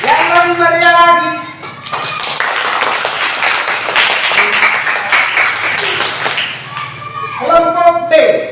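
An audience in a classroom teaching session applauds a student discussion group, with steady clapping through the middle after a voice speaks and before talking resumes near the end.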